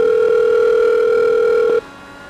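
A steady electronic phone tone sounds loud and close for almost two seconds during an in-race phone call in a sim racing broadcast at Bathurst at night, then cuts off abruptly, leaving quiet background hum.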